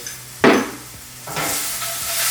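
Salsa hits a hot pan for chilaquiles with a sudden loud sizzle, followed by a second rush of hissing as more goes in, and a few soft stirring clinks.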